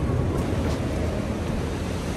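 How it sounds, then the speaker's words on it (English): Strong sea waves surging against the white chalk cliffs and grottos of Rosh Hanikra, a continuous loud roar of churning water mixed with some wind rumble, with no voices. "The waves are so strong."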